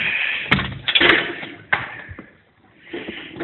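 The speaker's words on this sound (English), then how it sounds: "Open up the door of the cabin." A wooden cabin door being opened after a blizzard, with a couple of sharp knocks and clunks from the latch and frame followed by a creaking, rattling swing, heard close up outdoors.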